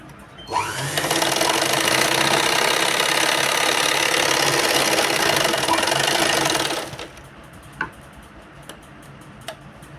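A sewing machine runs steadily for about six seconds while stitching a blouse, a dense even mechanical whirr with fine rapid ticking, then stops abruptly, followed by a few faint clicks and handling taps.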